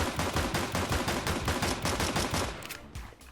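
Rapid automatic gunfire in a video game, a loud steady rattle of shots in fast rhythm that cuts off near the end.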